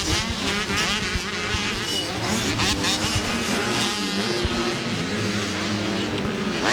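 Motocross motorcycles race around a dirt track in a teenage-class event, their engines a dense, continuous roar with overlapping revs from several bikes at close to middle distance.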